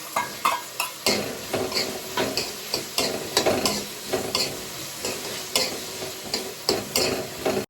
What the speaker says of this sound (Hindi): अब मुझे इनका फ्राई का वेट करना पड़ेगा।